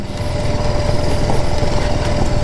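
A BMW G310GS single-cylinder motorcycle engine drones steadily on a trail, loud and close, with a constant buzzing hum and no talk over it.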